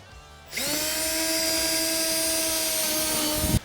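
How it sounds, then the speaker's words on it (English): A power drill bores through a Polaris RZR fender flare in one loud, continuous high whine lasting about three seconds, starting abruptly and cutting off sharply, with no voices. "we can just come right to this hole here and just go ahead and drill right through"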